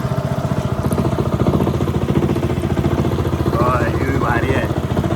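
A boat engine brought from Germany runs at a slow, steady chug, its rapid rhythmic thumping loud and close throughout, with faint voices over the engine noise.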